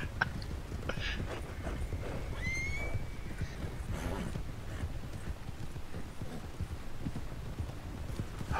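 Horse hooves clip-clop steadily through a Red Dead Redemption 2 online multiplayer session, with a horse whinny early on, all set against a constant busy game background.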